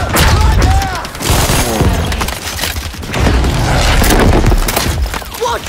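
Grenade explosion in Battlefield 5 video game combat, a loud booming blast among dense gunfire and crashing debris, with shouted voices mixed through the chaotic battle noise.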